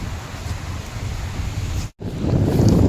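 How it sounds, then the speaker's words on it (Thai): Strong wind buffets the microphone while sea waves wash ashore at Suan Son beach in Rayong, a steady loud roar with a brief dropout near the end before the surf and gusts swell again. "นี่ครับบรรยากาศทะเลลมแรงดีมาก"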